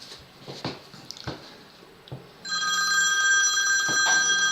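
A telephone bell rings loudly and continuously through the second half, entering after a stretch of quiet background thumps and clicks.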